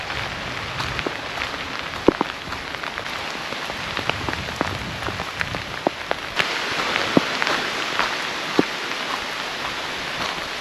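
Rain falling in the cold, windy Vosges mountains of France, a steady close patter on a surface with sharp individual drips and splats scattered throughout, no voices.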